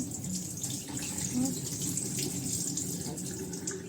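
Hot water running steadily from a kitchen tap into a sink while rice is being washed, a continuous close hiss and splash with faint background voice.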